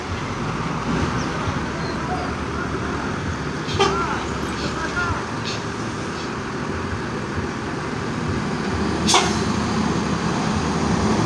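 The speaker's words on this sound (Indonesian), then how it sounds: "Rem anginnya kayak bunyi kentut" Air brakes on an EPA Star intercity bus bound for Palembang let out two short, sharp hisses several seconds apart over steady road and engine rumble, with people talking.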